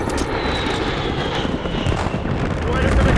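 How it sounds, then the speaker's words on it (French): Strategic bomber aircraft in the Call of Duty Black Ops 7 multiplayer game: a loud, continuous engine roar drones throughout while French in-game voice callouts speak over it. "bombardier stratégique sur ma position"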